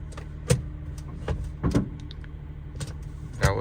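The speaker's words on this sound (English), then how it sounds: "That was my emergency brake that you heard." A car's emergency brake is worked after a fuel pump replacement, giving several sharp mechanical clicks and clunks spaced irregularly over a few seconds, up close against a low steady background.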